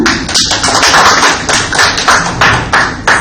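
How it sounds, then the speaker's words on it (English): Audience clapping at a seminar session, a steady close patter of many hands applauding together for a few seconds with no talk over it. "Just claps for Aparna."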